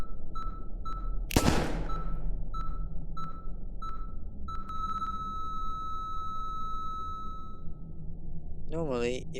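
One sharp, loud gunshot cracks out in the Melon Sandbox video game amid a repeating series of electronic beeps, which give way to a sustained tone and then a rising warble.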